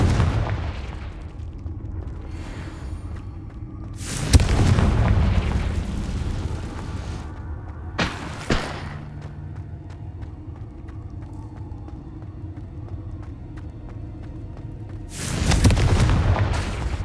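Fiery Confringo spell blasts in the video game Hogwarts Legacy: three loud, booming bursts with long rumbling tails, spaced several seconds apart over a steady low game ambience.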